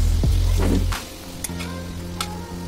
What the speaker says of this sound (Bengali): এবার আমি ওই তেলের মধ্যেই একটু লবঙ্গ আর একটু এলাচ দিলাম